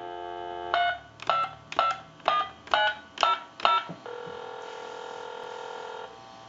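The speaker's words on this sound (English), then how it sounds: "I'll go ahead and dial the number out this time." A telephone handset on a restored Spirit of St. Louis phone dials out, seven evenly spaced beeping tones in quick succession, followed by a steady ringing or line tone, clear and close with no talk.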